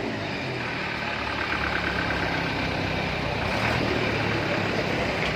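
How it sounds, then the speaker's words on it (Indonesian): A modified dump truck with a hydraulic bumper rumbles through its exhaust, a loud, steady, close engine drone that holds without pause for the whole stretch, with no talk over it. "Yuk kita lihat suara knalpotnya"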